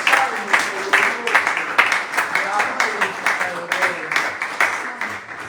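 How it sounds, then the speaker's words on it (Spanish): A church congregation applauds during a sermon, a dense wash of claps with some individually distinct strikes, while voices carry on over it. "Dale fuerte un aplauso al Señor."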